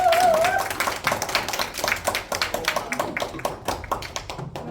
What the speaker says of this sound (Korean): EVP 이민정 사장님 오실 때 큰 박수 부탁드립니다